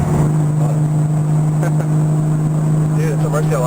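A Lamborghini Murcielago engine holds a loud, steady droning note up close, while people talk over it.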